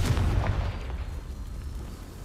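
A Confringo spell explodes in the video game Hogwarts Legacy as one loud blast that decays into a rumbling tail over a couple of seconds, with no voices.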